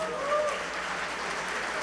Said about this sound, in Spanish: les damos un aplauso también